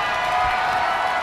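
A video game crowd cheering during a Gunther versus Jey Uso wrestling match in WWE 2K24, a steady, dense roar of arena cheers that holds loud throughout.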